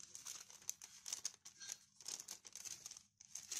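Plastic packaging bags with a clear window are crinkled and rustled close by, giving a busy run of sharp crackles and rustles with short pauses, with no talking.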